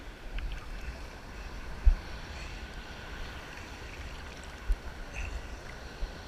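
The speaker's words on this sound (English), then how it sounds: "These waves sure are pretty." Ocean waves wash steadily onto a beach in a continuous, broad rushing wash, with a few soft thumps and some wind buffeting the microphone.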